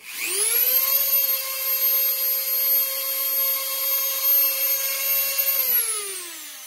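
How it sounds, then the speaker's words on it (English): A Dremel rotary tool power-carving a wooden horse figure spins up to a loud, shrill whine and holds it steady up close. It then winds down as the motor stops, with no talk. "The Dremel makes so much noise that it just tunes this right out."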